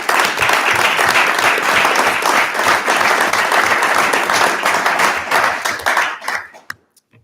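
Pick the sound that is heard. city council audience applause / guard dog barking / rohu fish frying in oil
city council audience applause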